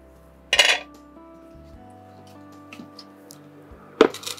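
A metal kadai is set down on a kitchen stove, giving two sharp metallic clanks several seconds apart over a faint low hum, with near silence between the hits.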